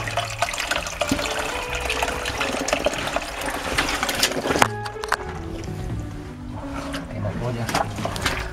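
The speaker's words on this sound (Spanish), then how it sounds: "Mira cómo sale el agua por ahí." Water gushes and splashes steadily close by inside a mine, with a voice speaking over the rushing flow.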